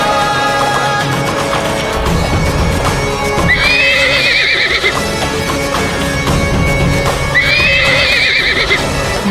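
Loud, shrill horse neighs in a historical Indian drama about Maharana Pratap, two whinnies repeating several seconds apart over a dense battle-like background with hoofbeats and rumble.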